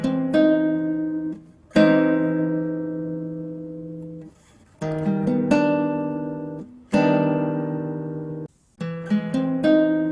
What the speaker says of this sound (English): this is going to be an augmented chord with a major 7th,